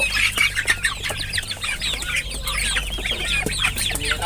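Several chickens cluck and squawk in overlapping bursts close by at morning feeding, a busy steady chatter over a low background hum.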